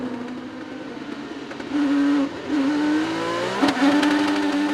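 An IndyCar race car at the Music City Grand Prix street circuit drifts wide onto the marbles, its engine droning steadily, then climbing in pitch with sharp revving surges and throttle blips, loud and alone.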